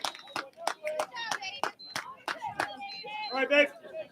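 Scattered sharp claps, whistles and shouts rise from the stands at a high school baseball game between Big Red and Minerva after a line drive into left field, with voices throughout.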